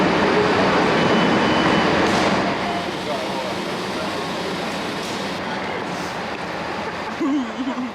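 Ambience of a train station in Windsor: a steady, dense wash of rumbling rail noise and crowd murmur, fairly loud throughout with faint scattered voices.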